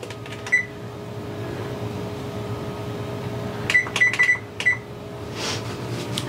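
Kitchen oven being loaded and set for a meal-kit dinner: several sharp electronic beeps in two clusters from the control panel, with a soft door thump, over steady room hum.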